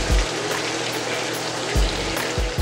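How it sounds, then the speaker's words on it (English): Soy sauce hits a hot pan for Thai-style whole red snapper and sizzles in a steady broadband hiss, with a few low thumps from the pan. No one speaks. "A little bit of soy sauce."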